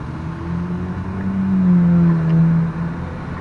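A 1965 Plymouth Savoy V8, revived after sitting 19 years, idles close and loud with a rough, uneven stumble that swells briefly before settling back.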